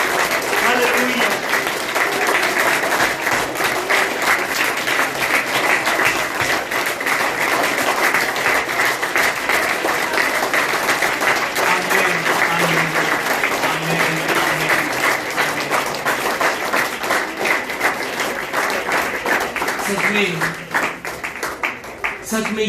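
Sustained loud applause from a church congregation during a worship service, steady clapping filling the room for over twenty seconds before tapering slightly at the end, with voices mixed in.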